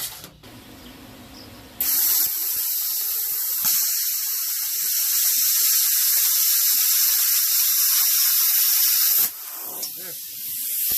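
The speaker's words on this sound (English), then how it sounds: "I'm gonna cut it off with my plasma cutter." A plasma cutter slices the handle off a butcher knife: a harsh, steady hiss bursts in abruptly, runs loud and close for about seven seconds, then cuts off sharply.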